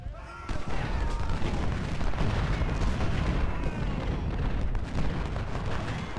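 Artillery cannon fire in the Ultimate General: Civil War game during the Siege of Suffolk, a dense, continuous roar of booming shots that rolls on without a break, loud and sustained.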